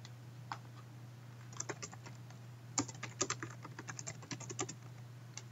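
Typing on a computer keyboard while entering a rubric name, a quiet run of light, uneven key clicks that grows busier and denser toward the end, close up, over a faint steady hum.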